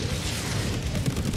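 Explosion in Helldivers 2, a dense, loud booming rumble over a short burst, with heavy low-end blast noise throughout.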